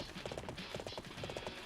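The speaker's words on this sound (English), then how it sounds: "Pretty fast horse." Horse hooves gallop in Dynasty Warriors 7: Xtreme Legends, a quick, rhythmic clip-clop in repeating bursts, quiet and slightly distant, with no talk.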